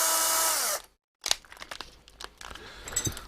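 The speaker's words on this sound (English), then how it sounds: "I've managed to break some drill bits this morning doing this." A power drill enlarges a hole in a radio project build, a steady whirring burst that stops, then gives way to crackling, crunching handling noises and scraping.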